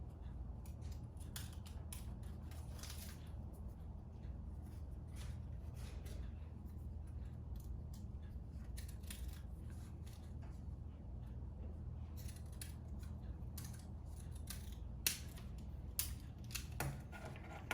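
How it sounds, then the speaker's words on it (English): Repeated snips of scissors cutting through paper, crisp clicks at an uneven pace over a low steady hum, close to the microphone. "I'm using these scissors to put the edge, or to make the edge."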